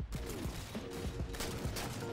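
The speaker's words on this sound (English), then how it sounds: "I've never seen somebody who enjoyed fuel rod cannons as much as this guy. He is just like really going after it right now." Rapid fusillade of fuel rod cannon blasts and gunfire in a video game match, dense overlapping bursts at moderate level with no voices over them.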